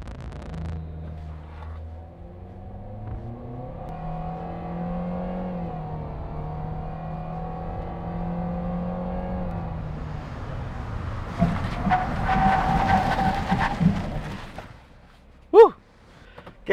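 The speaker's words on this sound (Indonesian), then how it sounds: "Sekarang pengetesan rem yang kedua." A car accelerates hard to 100 km/h with a rising, sustained engine note, then brakes hard in a second brake test, with a louder burst of road and braking noise near the end and a sharp click just after.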